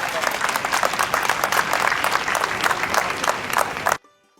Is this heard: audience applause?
yes